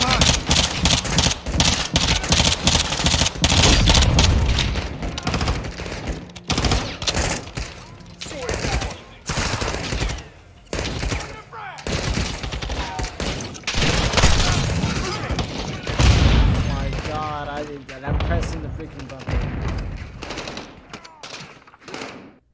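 Sustained automatic gunfire and rapid fusillades from the Call of Duty Modern Warfare 2 campaign, loud and nearly continuous with bursts and thuds, while voices shout over the combat.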